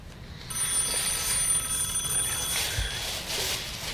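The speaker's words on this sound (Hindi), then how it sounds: "फोन उठाओ।" A telephone rings with a bright electronic trill, its repeated tones sounding steadily over a quiet room for several seconds, with no one speaking.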